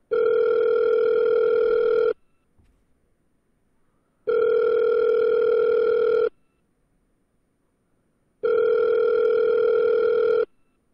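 An outgoing phone call rings unanswered, three evenly spaced two-second ringback tones with silent gaps between them, clear and steady with nothing else heard.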